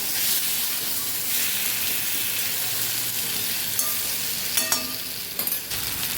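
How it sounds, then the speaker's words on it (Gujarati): Potatoes sauté in a pan for a Kathiyawadi capsicum-potato sambharo, giving a steady, close sizzle and fry hiss with a few scraping stirs near the end and no talking. "થોડા આપણે પહેલાં બટેકાને સાતળી લઈશું"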